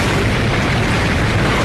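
A bomb blast in an action film, a dense roaring rumble of debris and fire that fills the whole clip loudly and steadily, with no clear separate bangs.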